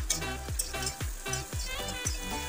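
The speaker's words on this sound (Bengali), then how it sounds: "পেঁয়াজটাকে খুব ভালো করে লাল করে ভাজতে হবে" About 200 grams of chopped onions frying in hot oil in a pan, a steady close sizzle with rhythmic clacks of stirring roughly twice a second, no voices.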